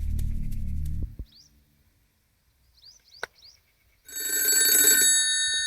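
A telephone rings in bursts amid a comic kidnapping scene, with a few chirpy electronic blips between a low hum at the start and a bright, sustained ringing tone at the end.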